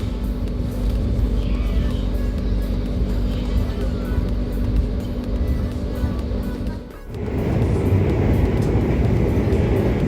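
Steady rolling rumble heard from inside a Sancaka passenger train bound for Solo, a continuous low drone that dips briefly and then swells louder and brighter, as if passing through a different section of track.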